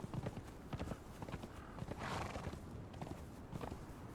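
Horse hooves clip-clop steadily in the video game Conan Exiles, with a brief whinny partway through; the hoofbeats are fairly close, mixed with game ambience and no talk.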